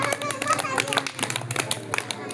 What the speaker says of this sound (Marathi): टाळ्या वाजवा टाळ्या वाजवा.